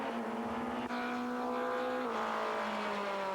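Supertourisme touring race cars, including a BMW, roar past at Ledenon circuit in 1996, a loud continuous engine drone with a steady pitch that shifts slightly as the cars pass, with no talk over it.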